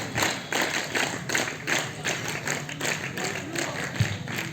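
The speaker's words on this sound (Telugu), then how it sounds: "చప్పట్లు అబ్బాయిలు." Students clapping at a school Republic Day ceremony at ZPHS Mannempally, a crowd's brisk applause with regular rhythmic claps, close and moderately loud, mixed with faint voices.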